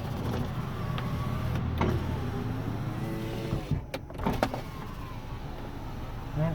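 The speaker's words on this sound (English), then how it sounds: "Power windows work." Electric power windows on a 1997 Honda Prelude hum as they move, a steady motor whine with a few clicks and thumps of the switch and glass stopping, close inside the car.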